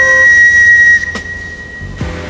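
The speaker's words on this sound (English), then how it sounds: "Mr. Conductor would blow his whistle and the episode would transition into Thomas stories" A conductor's whistle gives a loud, sustained shrill blast for about a second, then stops, leaving a quieter steamy hiss and a couple of soft knocks.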